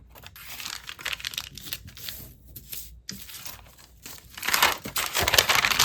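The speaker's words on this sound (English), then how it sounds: "I'm just going to fold these in half for the most part." Paper pages and lace doilies being folded in half for a junk journal, close crinkling and crisp creasing rustles in quick irregular bursts, growing busier toward the end, with no talking.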